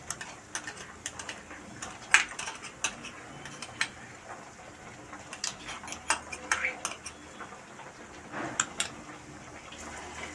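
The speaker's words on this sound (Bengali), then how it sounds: "এর মধ্যে এবার আমি ফ্যাটানো টক দইটা মিশিয়ে দিচ্ছি।" Whipped sour yogurt being stirred into fried spice paste in a pan while cooking catla fish: faint, irregular ticks and scrapes of a utensil against the pan over a quiet background.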